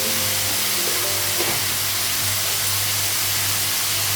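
Ginger paste hitting hot oil with cumin seeds in a home kitchen, giving a steady, close frying sizzle with a low hum underneath and a brief stir clatter partway through.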